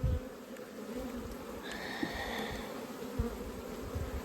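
Honey bees buzz around an open hive in dry heat, a close, continuous droning hum with individual bees flitting past, plus a few soft knocks from frame handling.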